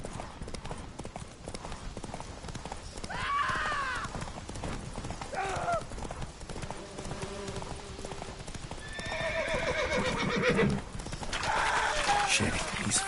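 Roach, Geralt's horse in The Witcher 3, gallops with fast, steady hoofbeats and lets out several loud neighs and whinnies, while game dialogue and music carry on over the hooves.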